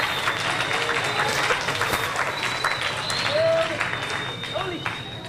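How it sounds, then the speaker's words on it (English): Crowd applause for a high school marching band at an instrument event, steady mid-level clapping with cheers and chatter mixed in, swelling briefly then fading toward the end. "Give them another round of applause."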